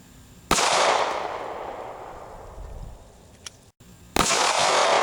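Two loud gunshots from a .380 pistol fired into a water jug, the first followed by a long decaying outdoor echo, the second about three and a half seconds later.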